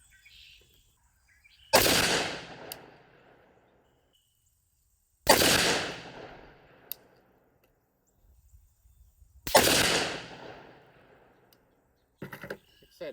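Three loud, sharp rifle reports from a 6.5 Grendel firing Nosler RDF 130-grain loads at an outdoor range, spaced a few seconds apart, each with a long echoing decay, plus a brief clatter near the end.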